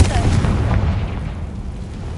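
Fire spell blast in Hogwarts Legacy, a loud rumbling boom that rolls on with a dense roar for a couple of seconds.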